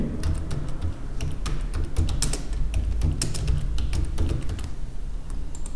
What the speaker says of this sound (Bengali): আমরা একটি নেম এখানে টাইপ করে দেই।